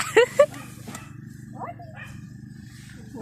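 A dog barks twice in quick succession at the start, then only a low steady rumble continues.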